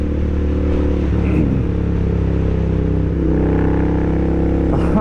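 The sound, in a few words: Royal Enfield Interceptor 650 motorcycle riding with a remapped ECU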